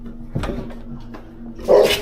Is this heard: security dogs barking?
yes